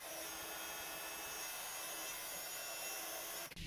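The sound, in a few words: heat tool heating embossing powder on paper cherry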